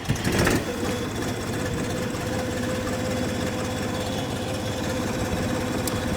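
Xingtai 244 THL mini tractor engine cranks and catches, then settles into a loud, steady diesel idle with a rough knocking rhythm, close by and alone.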